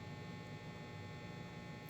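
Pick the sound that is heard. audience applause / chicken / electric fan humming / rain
electric fan humming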